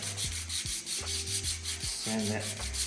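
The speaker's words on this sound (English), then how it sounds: "So you can sand that" Sandpaper rubbed back and forth along the sharp cut edge of a laminate flooring board, making about seven short, even rasping strokes close up with no talking.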